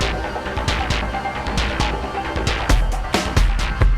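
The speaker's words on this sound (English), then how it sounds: "We made our own custom kit, and then we programmed and sequenced some drums on the Deluge" Custom drum kit programmed and sequenced on a Deluge groovebox, a steady loop of punchy kicks and sharp snare or clap hits with bright, noisy transients repeating in a tight, even rhythm.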